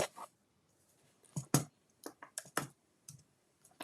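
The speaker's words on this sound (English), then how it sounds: "I guess I need my keyboard, don't I?" Keys on a computer keyboard clack in a short, irregular burst of typing, with sharp separate strikes and brief pauses between them; no one speaks.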